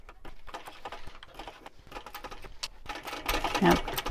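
A sewing machine stitches the lining seam of a beach clutch bag at a 3.5 stitch length, a steady rapid mechanical chatter that grows louder toward the end, close up with no talk.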